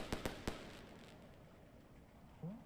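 Three sharp firecracker pops burst in quick succession inside the Animal Well video game, then a quieter stretch with a faint rising chirp near the end.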